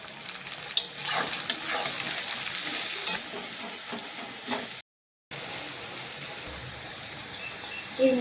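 Onions, garlic, slit chilli and salt frying in a pan for mutton kosha, a steady close sizzle with scraping stirs near the start and a brief dropout midway.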